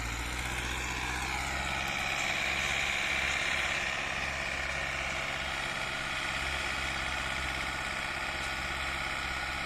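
An MTZ-82 tractor engine idles with a low, throbbing rumble and steady mechanical vibration, continuous and fairly close, with no voices, during field cultivation after ploughing.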